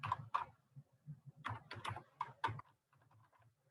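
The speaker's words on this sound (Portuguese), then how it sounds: "quando eu venho digitar aqui meu e-mail" Bursts of quick, soft keystrokes on a computer keyboard as an e-mail address is typed, clustered in short runs with brief pauses, close and quiet with no talking.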